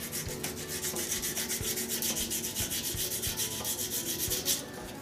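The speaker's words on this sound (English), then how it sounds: "you've got to sand in all the different directions to make sure that you get" Hand sanding of a clear blue and gold epoxy resin shaving brush handle with abrasive paper, a steady fast back-and-forth rasping scrub that repeats evenly and continuously up close with no talking.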